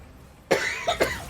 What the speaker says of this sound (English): Sorry about the coughing, everyone.